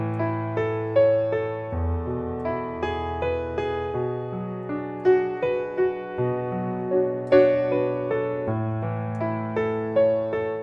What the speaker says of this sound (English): For the instrumental section, I might do a full-on arpeggio that's going to sound like this.